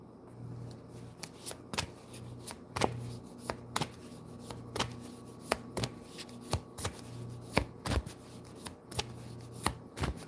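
A Dream Decoder oracle card deck is shuffled by hand in quick repeated riffles and slaps, close and crisp, with a faint steady hum underneath and no talking.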